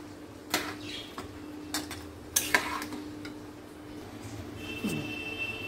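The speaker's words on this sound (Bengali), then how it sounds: "এবার আমি মটরশুঁটিগুলো দিয়ে দিলাম, দিয়ে ভালো করে একটু মিশিয়ে দিলাম।" A spoon stirring khichuri with peas in a pot, a few scattered clinks and scrapes against metal over a quiet hum, with a faint high whine near the end.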